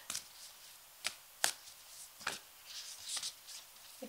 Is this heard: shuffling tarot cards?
yes